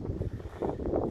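Strong wind gusts buffet a greenhouse, making a loud, rough, low rumble of wind against the microphone. It swells and surges unevenly, with no talk over it.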